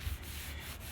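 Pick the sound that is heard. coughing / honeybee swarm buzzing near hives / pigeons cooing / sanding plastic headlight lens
sanding plastic headlight lens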